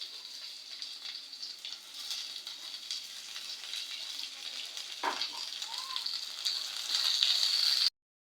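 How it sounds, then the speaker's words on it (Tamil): Chopped onions sauté in hot oil with ginger-garlic paste for a Tamil egg curry, giving a steady soft sizzle and crackle that grows slightly louder near the end, with a brief scrape of stirring partway through. "இப்போ வெங்காயம் நல்லா வதங்கிட்டு இருக்குது"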